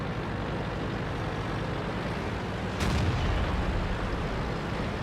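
Tank cannon fires a single shell in a tank video game, a sudden loud broadband boom at about three seconds over a steady engine rumble.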